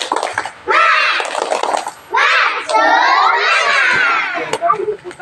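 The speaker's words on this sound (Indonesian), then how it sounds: "Kasih tepuk semangat kita." A group of schoolchildren at a morning school assembly doing a rhythmic spirit clap, loud shouted chanting voices in bursts with claps mixed underneath, close and energetic, with brief pauses between phrases.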